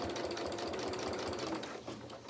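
A sewing machine stitches the second side of a pleat on an outdoor seating cushion cover, giving a steady, close, rapid mechanical whirr with a regular needle rhythm that runs continuously, easing slightly near the end.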